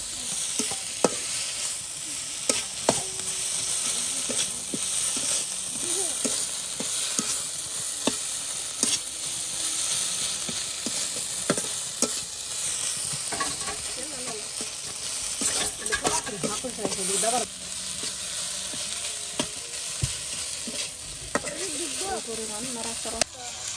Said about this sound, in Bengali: এই যে আপনার শুটকিগুলো একদম দিয়ে দেওয়া হলো